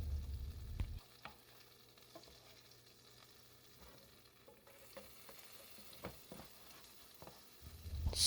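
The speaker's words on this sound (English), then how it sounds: "I'm gonna add half stick of butter and stir gradually on low heat until the butter becomes brown" Butter melting and browning in a pan over low heat while being stirred, giving a faint steady sizzle with occasional soft scrapes and clicks of the utensil, no talking.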